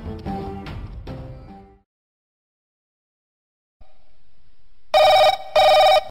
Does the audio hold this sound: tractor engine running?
no